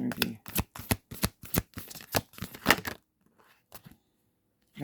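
Tarot cards riffled and shuffled in quick bursts, a crisp flapping rhythm close by for about three seconds, then near silence with a few soft taps; a voice speaks briefly alongside.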